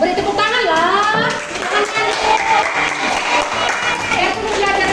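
A classroom of Indonesian students applauding a student group, scattered claps blending with children's voices and chatter throughout, fairly loud and close.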